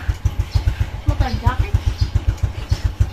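A newly gifted motorcycle's engine thumps in a steady, fast, loud rhythm close by as papa rides off, taking the older brother out toward the road, with faint voices and a brief chirp over it.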